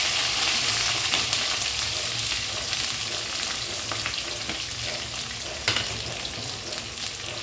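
Sliced onions and green chillies sizzle steadily in hot tempering oil with dried red chillies, a dense continuous frying hiss with occasional stirring, close and with no talk.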